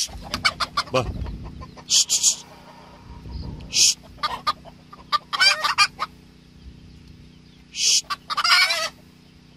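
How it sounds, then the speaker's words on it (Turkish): Ispenç-breed chickens cluck and squawk noisily in repeated bursts, close by and excited, with a person briefly speaking among them. "Aşırı yaygara yapıyorlar. Aşırı çok ötüyorlar."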